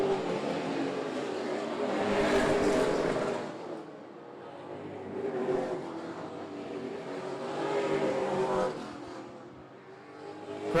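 Super late model race cars roar around the track in traffic, engines swelling and fading in waves as packs pass by at middle distance, a continuous heavy drone with repeated surges.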